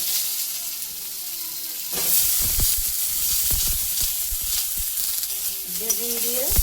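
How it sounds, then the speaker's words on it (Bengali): Eggplant pieces drop into hot oil beside browned potatoes for a Bengali fish-head chorchori, setting off a sudden loud sizzle that hisses on steadily, broken by clinks and scrapes of stirring close by. "এখন বেগুনগুলি দিয়ে দেব।"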